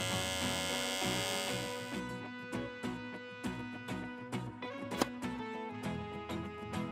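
An electric toothbrush buzzes steadily beneath loud, rhythmic music with sharp beats, with no talking.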